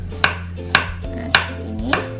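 A knife thinly slicing shallots, garlic and large red and green chilies on a board, four crisp, evenly spaced chops over a steady low hum.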